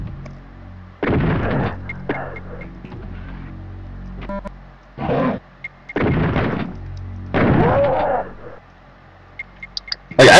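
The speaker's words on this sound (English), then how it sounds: "Now this shotgun, you'll see in a sec how strong this thing is." Shotgun in the video game Doom firing several heavy, booming blasts spaced a second or two apart, with a person talking in the gaps between shots.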